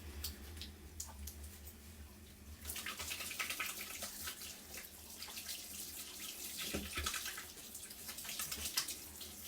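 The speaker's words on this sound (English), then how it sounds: "before we do anything, wash hands." Hands are washed under a running kitchen tap before pizza dough is made, a steady rush of water with light splashing that swells slightly midway, close and continuous with no voices.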